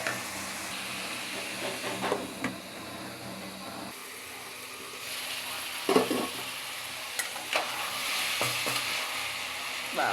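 Beans and potatoes sizzle and fry in spiced masala in a pan, a soft steady crackle broken by several scraping stirs, heard close and fairly quiet without speech.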